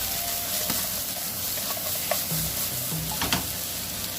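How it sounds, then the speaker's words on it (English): Ginger and garlic paste with two bay leaves frying in a pan for chicken rogan josh, a loud close sizzle with a few scrapes of stirring. "I'm gonna add 2 bay leaves as well, and let that cook"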